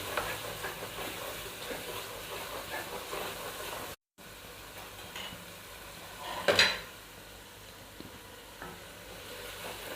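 Masala is fried in oil in a pan for a bhindi dish and sizzles loudly and steadily. The sizzle drops out briefly, then a stirring scrape rises and fades, and no one talks.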